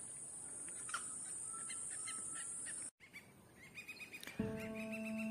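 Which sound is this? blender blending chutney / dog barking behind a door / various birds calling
various birds calling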